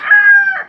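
A rooster in a backyard gamefowl farm gives a single short, loud crow close by, with no other sounds.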